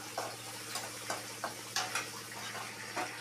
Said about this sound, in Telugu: దోరగా అయితే వేగినాయి, బ్రౌన్ కలర్ వచ్చాయి ఆనియన్స్, పచ్చిమిర్చి